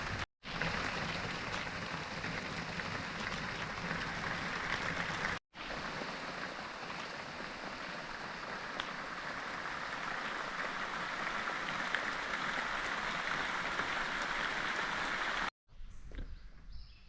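Heavy rain pours steadily at an off-grid tiny house cabin build site, a dense continuous hiss broken by two brief cuts, with no voices.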